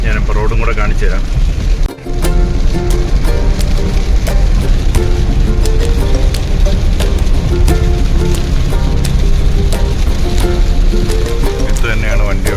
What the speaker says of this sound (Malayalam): ഇന്ന് രാവിലെ മഴയാണ്.